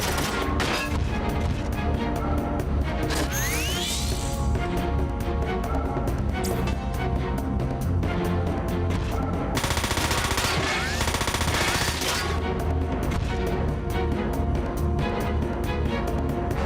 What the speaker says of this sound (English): those two machine gunners are backing Vavilov up